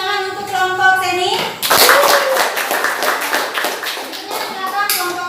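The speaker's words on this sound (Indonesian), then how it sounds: "tepuk tangan untuk kelompok Seni." A classroom of high school physics students claps for a presenting student group, a burst of close hand clapping that follows some voices and lasts several seconds.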